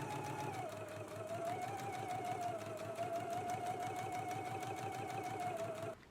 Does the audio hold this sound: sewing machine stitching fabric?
yes